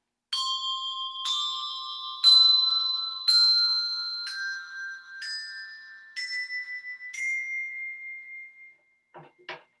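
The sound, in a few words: octave bells struck with mallets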